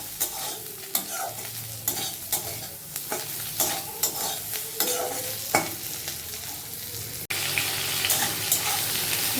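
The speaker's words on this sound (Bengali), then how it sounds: "এই যে ছোটো মাছগুলোকে ভেজে নিচ্ছি, লঙ্কা তার সাথে একটু রসুন পেঁয়াজ দিয়ে" Small fish frying in a pan with chili, garlic and onion, a steady close sizzle broken by repeated stirring scrapes, then louder hissing near the end.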